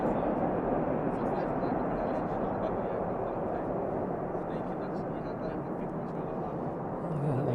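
A Maersk cargo plane on approach into East Midlands Airport in the evening produces a steady, broad jet roar, continuous and fairly distant throughout.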